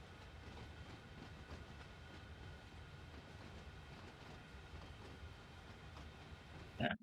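A freight train in the video game Train Sim World 2 rumbles steadily at low volume, its rolling wheel noise continuous, ending with a brief louder clunk.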